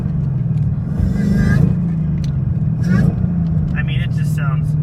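A 2015 Roush Mustang with a Foster supercharger cruising in fifth gear at about 40 mph, its steady engine drone and rumble rising briefly with light throttle, under continuous close talk.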